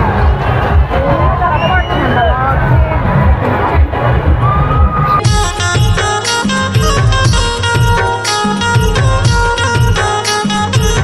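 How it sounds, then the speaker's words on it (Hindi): A dense, noisy crowd at the Laxmi fair in Jobi, Kharsia, where loud babble and children's shouts fill the air before festival music kicks in and plays over the continuing hubbub. "मेला के बीच में बहुत ही खतरनाक वाला भीड़ है।"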